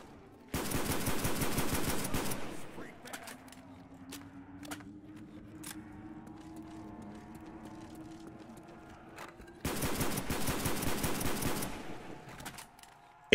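Rapid automatic gunfire from a loud gun in the Verruckt zombies map of a video game, heard as two long, loud bursts at the start and end with a quieter stretch of faint game sounds between them.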